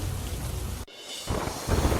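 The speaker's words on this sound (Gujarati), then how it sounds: "દ્વારકા જિલ્લાના ઘણા ભાગોમાં ધોધમાર વરસાદ" Torrential monsoon rain in Dwarka district, Gujarat, makes a dense, steady roar close by. It cuts out briefly, then returns with a low rumbling undertone and swells louder toward the end.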